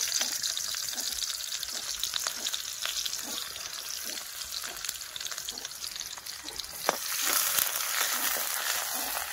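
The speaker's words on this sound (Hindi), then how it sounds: "चलिए तड़का को अच्छी तरह से भूंज लेते हैं।" Chopped onion and ground chili frying in hot oil for a tadka, a steady close sizzle with light stirring scrapes running throughout, no talking.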